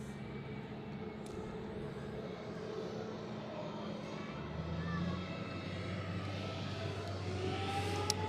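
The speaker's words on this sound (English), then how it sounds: "A rather rare guest on the southern side, Pegasus with an A321neo." A Pegasus Airbus A321neo airliner at Zurich Airport on a freezing morning gives a steady, moderately loud engine drone. A low hum swells partway through and holds to the end.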